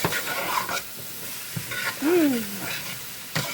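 Onion, garlic, celery and pepper sizzle and get stirred in a pan for a Rhode Island chowder-style dish, a close hiss broken by a few scraping stir strokes and a brief squeak.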